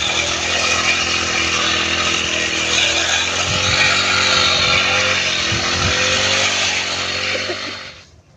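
A grass cutter engine runs steadily close by, a loud continuous buzzing drone that holds level throughout and then drops away at the very end.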